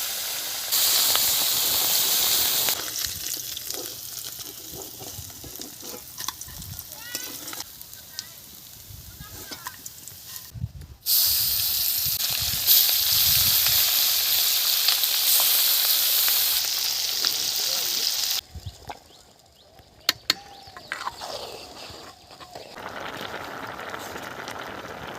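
Fish pieces coated in turmeric, salt and chilli powder fry in hot oil with a loud, bright, continuous sizzle and hiss. It fades and swells as batches go in, with kitchen clatter and some talk between.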